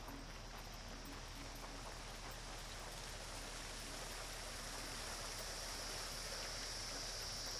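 Waterfall in the video game Yonder: The Cloud Catcher Chronicles, a steady, broad rushing roar of falling water, loud and unbroken throughout with no voices.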